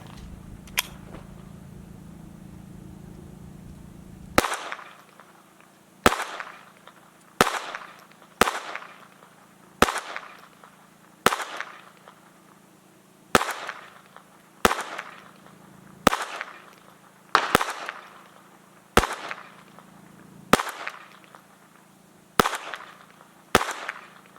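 A Taurus TX22 pistol fires lead round nose rounds at a range, sixteen sharp cracks spaced a second or two apart, loud and close, after a few seconds of low background hum.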